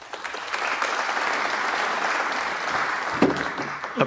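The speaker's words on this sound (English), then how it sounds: "Appropriate applause." Spectators at the 2023 British Open snooker match between Mark Selby and Jack Lisowski applaud a tough shot, steady dense clapping throughout the arena with a few sharper claps near the end.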